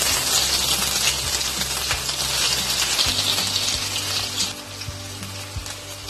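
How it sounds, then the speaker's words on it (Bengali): Onions with whole garam masala frying in a pan for a Bengali mutton kosha, a loud steady sizzle with bright hiss throughout and occasional soft stirring knocks, no talk. "পেঁয়াজগুলো লাল করে ভেজে নেব।"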